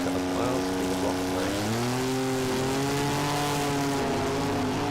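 A front-engine dragster, the Denaro car of a drag racing state championship, thunders down the strip with a loud, rising engine note that climbs in pitch as it accelerates, heard close and continuous for the whole run.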